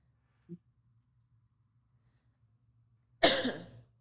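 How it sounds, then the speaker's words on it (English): A single sharp cough bursts out near the mic after a faint tap, then quiet. "I have a bit of a cough over here."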